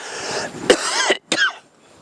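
Two sharp coughs, close and loud, separated by a brief silence, with no talking.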